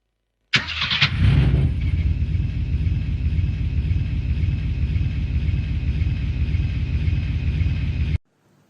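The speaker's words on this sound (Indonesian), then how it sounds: "Mesin meraung, suara truk Raffi bergema keras memecahkan kesunyian." A truck engine starts with a sharp burst and settles into a loud, steady roaring rumble that runs continuously for about seven seconds before cutting off abruptly.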